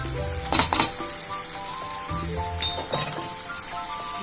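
Drained boiled cluster beans drop into a pan of hot tomato gravy with a close, steady sizzle, two bursts of clinking and splashing as they go in, then bubbling frying continues alone.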